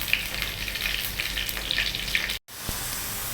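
Curry leaves sizzle loudly in hot oil in a frying pan with onions and chilies, a dense crackling hiss that runs steadily, breaks off for a split second, then resumes.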